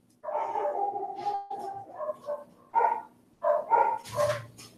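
Several dogs bark repeatedly at a visiting worker, loud and close, in irregular bursts with short pauses and a few yips.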